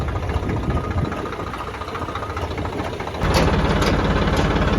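A tractor engine idles before wheat harvesting with a steady, low chugging rumble that steps up noticeably louder partway through and then holds.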